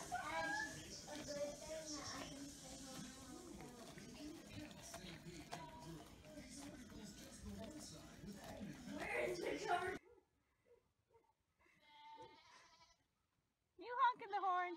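A pitbull makes honking, bleating vocalizations, with repeated nasal calls heard under near-constant talk from its owner, followed by a near-silent gap and a final burst of noise.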